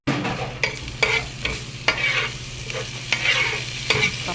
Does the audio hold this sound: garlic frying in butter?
yes